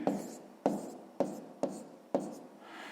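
A pen scratches out handwritten numbers on paper during a sixth-grade math long-division exercise, five short close strokes repeating at a steady pace, alone without talk.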